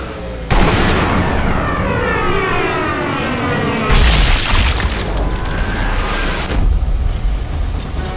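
Gunfire and heavy blasts ring out in the Sniper Elite V2 video game, with sharp booming onsets followed by long ringing, echoing decays, loud and repeated three times across the clip.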